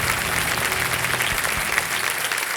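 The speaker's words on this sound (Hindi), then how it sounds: "ताली बज जाए, ताली बज जाए, ताली बज जाए।" Studio audience on the Kaun Banega Crorepati TV quiz show breaks into dense, sustained applause, many hands clapping together, loud and close for the whole stretch.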